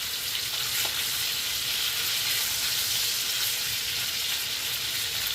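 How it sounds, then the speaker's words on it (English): Bologna slices fry in a pan until crispy, giving a steady, dense sizzle that stays loud and even throughout with no talking. "Getting the bologna nice and crispy."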